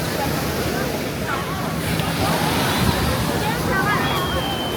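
Ocean surf breaking on Ipanema Beach in Rio de Janeiro during Carnaval, a loud, continuous roar of waves and wash close by, mixed with gusty wind buffeting the microphone.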